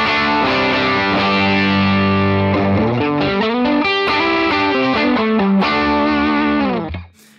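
An electric guitar through a Morgan AC-20 amp model on an FM3, with an overdriven, distorted first drive stage, plays a sequence of sustained notes and chords, ringing out before fading at the end.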